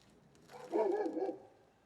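A neighbor's dog barks outdoors once, a single distant, muffled bark rising briefly above quiet background.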